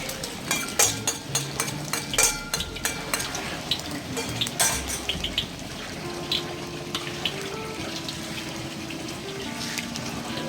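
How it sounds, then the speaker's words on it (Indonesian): Eggs fry in a hot pan being stirred and scrambled, with clinks of a utensil against the pan over a constant sizzle, the scraping taps frequent at first and then thinning out. "Kita goreng-goreng si telurnya ini."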